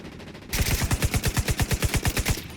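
Submachine gun fire in The Division 2 video game, one sustained automatic burst of rapid, evenly spaced loud shots lasting about two seconds, with no talking.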